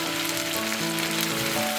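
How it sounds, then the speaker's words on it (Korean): Cabbage and scrambled egg stir-fry in a pan with a steady, close, dense sizzle throughout, and a faint tonal hum sits underneath. "재료를 잘 섞어가며 볶아주세요"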